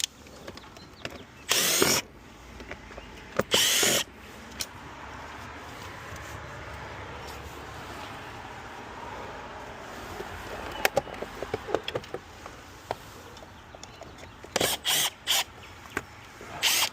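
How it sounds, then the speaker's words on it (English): Several short bursts of a power drill with a Phillips bit whir up and stop during a mini-split HVAC install, separated by a steady low background hum, with rattling clicks scattered near the end. "Where's that drill?"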